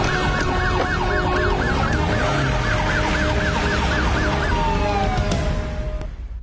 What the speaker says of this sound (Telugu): సార్ కార్ లో సైరన్ పెట్టుకుని శక్తిమాన్ లా వెళ్ళాడు.